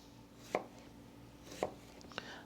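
A sharp knife chops a quarter onion on a board: three distinct, close chops spaced about a second apart, crisp and quiet, with no talking.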